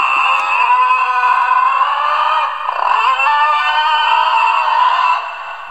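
An electronic roar from a Playmates Godzilla x Kong: The New Empire Shimo toy figure, loud and sustained with a slight dip midway, fading at the end; no voices.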